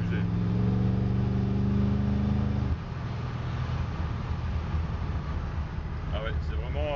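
A 1967 Ford Mustang engine pulling away under light throttle, a strong close rumble whose steady hum shifts into a rougher, rising drone as it accelerates, with someone talking over it.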